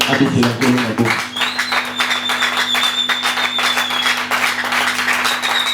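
Church congregation at a Sunday service applauding in a steady wash of clapping, with a sustained musical tone and voices mixed in beneath it.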